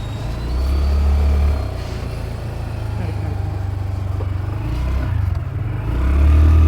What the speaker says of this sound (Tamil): இன்னொரு பஸ்ஸு வந்துருச்சு